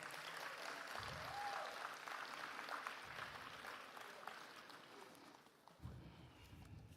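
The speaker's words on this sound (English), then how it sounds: "Despite the dampener, please, may I have a round of applause?" An audience at an electoral commission event signing a code of conduct gives a faint, distant round of applause that carries on evenly for several seconds in a large room.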